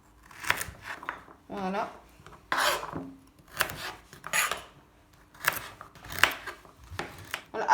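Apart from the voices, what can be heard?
cutting carrots into small pieces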